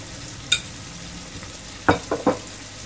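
A spoon stirs and scrapes spiced aloo keema, potato and mince, in a frying pan, giving a single early scrape and then three quick clustered stirs over a faint sizzle.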